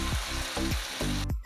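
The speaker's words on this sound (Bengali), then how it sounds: "সেই পেস্টটা আমি এই তেলের উপরে দিয়ে দেব।" A paste of white and black mustard seeds, green chilli and poppy seeds sizzles in hot oil for a hilsa mustard curry, with about three quick rhythmic scraping strokes over a brief sizzle.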